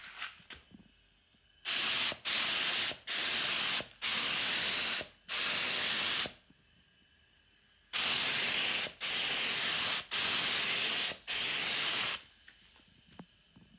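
Raptor liner coating sprayed onto an AE86 bumper in two sets of loud, steady hissing bursts separated by brief pauses, with quiet gaps before and after.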